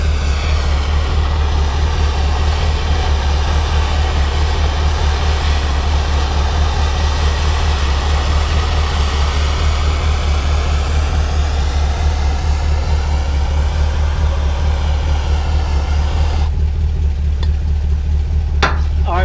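A Plymouth rat rod's engine runs in drive, a loud, steady low rumble close by, holding constant throughout with a faint shift in character near the end.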